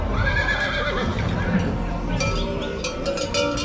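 A horse whinnies amid a busy livestock fair selling sheep, goats, cattle and horses, with mares nearby; the call rises over a dense crowd murmur, and faint clinks and hoof sounds mix with people talking throughout.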